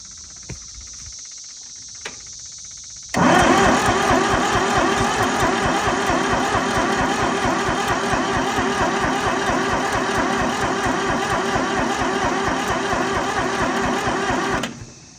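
Ford three-cylinder diesel engine in an old Brouwer forklift cranking on its starter after years of sitting, a loud, steady rhythmic churning that kicks in abruptly after a few quiet seconds and runs without catching, then stops.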